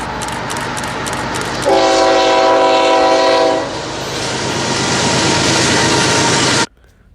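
Several freight train locomotives rolling past in Riverside, California, with a loud, steady rumble and clatter, a long multi-tone horn blast in the middle lasting about two seconds, then continuing rail noise that cuts off abruptly.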